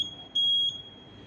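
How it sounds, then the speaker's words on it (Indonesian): A single high-pitched fire alarm tone sounds steadily during a drill, swelling briefly louder for a moment over a low room hum, with no talking. "Alarmnya sana bunyi Mas Bob."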